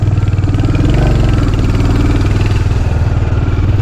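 Motorcycle engine running close and loud on a slow hill road to a forest village, a steady low idle-like throb with a rough, slightly uneven rhythm throughout.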